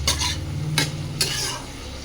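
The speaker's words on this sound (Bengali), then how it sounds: "এবার যে সেই কিমা করে রাখা চিকেনগুলো, সেই চিকেনটা দিয়ে দিচ্ছি।" Minced chicken frying in spice paste in a pan, a steady sizzle close by broken by a few sharp scrapes of a spoon stirring against the pan.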